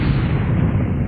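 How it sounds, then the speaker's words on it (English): Dramatized explosion aboard a spacecraft's service module: a continuous loud, dense low rumbling roar that holds steady and close throughout, with no voices. "The explosion had blown away the side of the service module, and vital gases poured uncontrollably into space."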